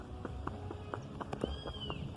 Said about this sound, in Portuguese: Um cavalo